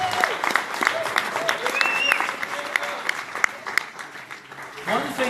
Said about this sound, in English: give a round of applause here for Sam